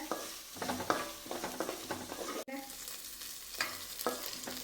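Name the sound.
ginger, garlic and green chillies frying with beef in a pan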